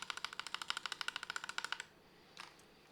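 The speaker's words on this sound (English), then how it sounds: "here is what the Gen 2 analog optical switch sounds like" Fast typing on a gaming keyboard with Gen 2 analog optical switches, a rapid even run of crisp close keystrokes that stops abruptly, followed by a short faint clatter.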